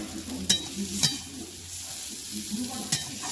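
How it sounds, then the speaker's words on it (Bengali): Thankuni (Indian pennywort) leaves dry-fry in a pan without oil, giving a soft steady sizzle and hiss with a few sharp scrapes of stirring; quiet and continuous, with no talking. "তেল বাদে এটা ভাজছি"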